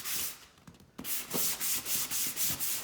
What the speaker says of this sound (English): Turn the pad over and give it another really good rub over the surface.